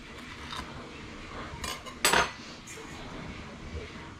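Sugar scooped heaping with a measuring spoon and leveled off with a straight edge in a home kitchen while baking chocolate chip cookies, giving faint scraping with a short, louder metallic clink near the middle, then quiet.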